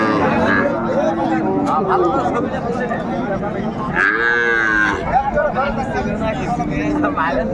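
A Sahiwal cow and calf moo at a busy village cattle market in Raniganj, with one long, loud bellow rising clearly over a steady background of nearby people talking and general crowd chatter.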